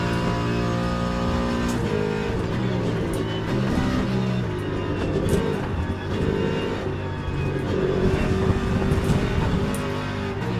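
LMGT3 race car engine in a racing video game roars steadily at high revs, a dense continuous drone with slight pitch shifts as the car is driven hard through corners.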